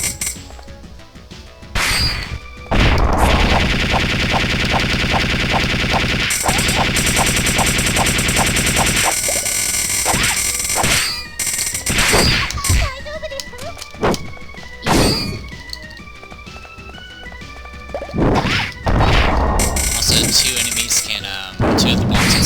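Bombs explode repeatedly in Recettear during a crab fight, sharp clanging blasts and crashes in irregular succession over loud game music and sound effects, with a voice talking throughout.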